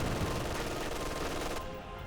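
An MG42 machine gun fires in a dense, continuous burst during a Company of Heroes 2 battle, harsh and loud, with no pauses before it tails off at the end.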